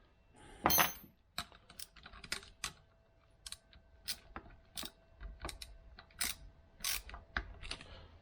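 A 7/16 spanner works a front suspension nut on a Land Rover Series IIa, giving a run of sharp metallic clicks and ratcheting taps at an uneven pace, close and fairly quiet, with no talking.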